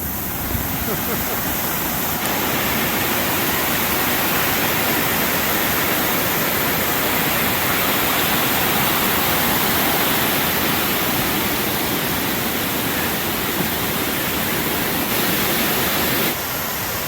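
A loud, steady roar of water plunging down a two-level waterfall in Georgia in the rain, close by and continuous throughout with no breaks.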